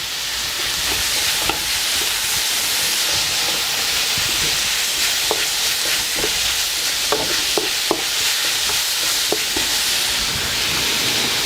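Carrots added to a hot pan for a chicken stir-fry, a loud continuous frying sizzle and hiss with scattered clicks of stirring, no talking.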